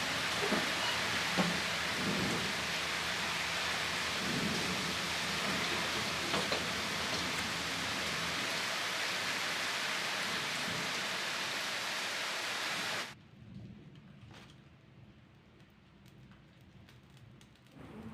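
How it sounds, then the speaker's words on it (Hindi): Heavy rain roars steadily and loudly for most of the stretch, then suddenly drops to a much quieter patter near the end. "देखिए बारिश कितनी ज़ोर से लग रही है"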